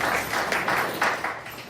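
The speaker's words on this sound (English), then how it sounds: "A round of applause for Miss Hip." Short burst of audience applause for Lori Hip at a resident council gathering: steady, close clapping lasting under two seconds with a few sharper swells.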